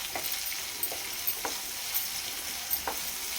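Onions fry with salt in a pan for gongura prawn curry, a steady bright sizzle broken by a few soft spoon stirs, close and alone.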